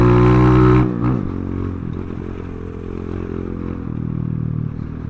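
A Kayo four-stroke dirt bike engine runs loud and close, a harsh roar that drops off after about a second into a steadier, quieter rumble with rattling mechanical clatter.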